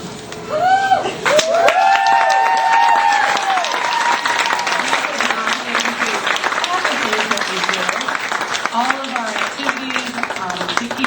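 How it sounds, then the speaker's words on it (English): Loud, sustained applause from a graduation crowd, with cheering voices and whoops mixed in throughout. "give her a round of applause"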